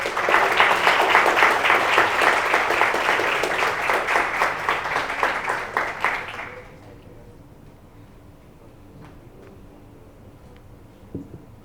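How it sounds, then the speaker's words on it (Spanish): Audience applause after a science talk, dense rapid clapping from many hands that carries for several seconds and then cuts off into quiet room tone. "un aplauso para él"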